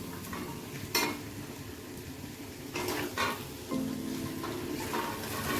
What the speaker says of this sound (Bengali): পটলগুলোকে দিয়ে মশলার সাথে ভালো করে একটু কষিয়ে নিতে হবে